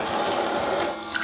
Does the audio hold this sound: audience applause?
no